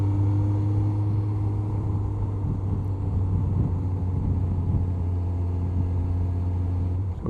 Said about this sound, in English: so downshift one more time